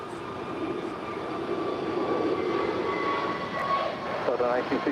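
Steady broad roar of a KLM Boeing 787-10 Dreamliner arriving from Amsterdam at LAX, heard at a distance as a continuous jet rumble with a faint whine, holding level throughout with no talk.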